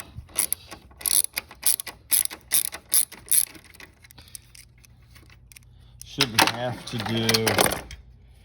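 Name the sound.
ratchet removing 12mm battery tie-down bolts, Mitsubishi Eclipse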